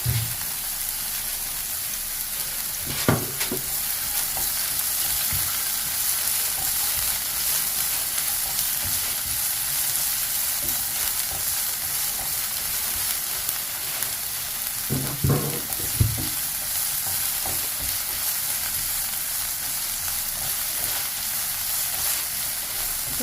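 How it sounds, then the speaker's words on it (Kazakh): Sliced sweet bell peppers frying in a little oil, giving a continuous close sizzle with occasional stirring clatters, with no talking. "Перец жұмсарғанша ғана қуырып аламыз тек."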